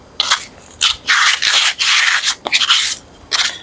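Small piece of sandpaper scuffing the frayed ends of a push pole, quick close rubbing strokes in short uneven bursts.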